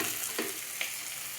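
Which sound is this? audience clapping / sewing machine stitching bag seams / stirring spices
stirring spices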